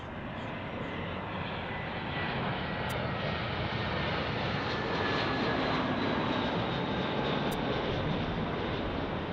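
An ITA Airways jet airliner at Los Angeles International Airport produces a steady, loud broadband engine roar that holds throughout without gaps, with no voices over it.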